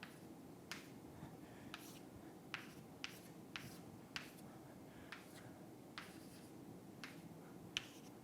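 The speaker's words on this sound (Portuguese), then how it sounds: "Deixa eu desenhar aqui um grafo, que vai servir para a gente raciocinar." Chalk or marker strokes on a board as a graph is drawn during a math lecture, a sequence of short faint taps and scratches spread unevenly over a quiet room hiss.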